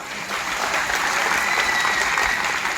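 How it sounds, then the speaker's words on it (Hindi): An indoor audience at a network marketing seminar claps steadily, a dense, even wash of applause that holds at the same level throughout, with no voices standing out. "तो एक बार फिर से कल्पेश भाई के लिए जोरदार ताली हो जाए।"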